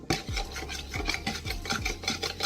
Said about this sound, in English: Now I'm just giving it a little mix